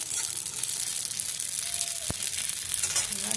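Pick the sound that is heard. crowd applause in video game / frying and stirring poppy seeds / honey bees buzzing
frying and stirring poppy seeds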